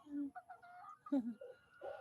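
A chicken clucks nearby in a few short, throaty bursts, fairly quiet and close, with no other clear sounds around it.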